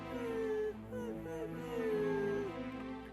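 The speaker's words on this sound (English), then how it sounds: "Poor little puppy dog." A puppy whimpering in the Dragon Quest VII video game, a few falling, whiny yelps in a short sequence, fairly close and clear, with game background sound and no talk.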